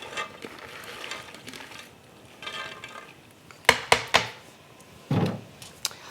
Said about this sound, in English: So now I'm going to add the beans, and these are the rinsed beans.